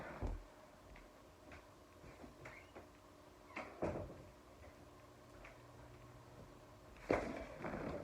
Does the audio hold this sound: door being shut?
yes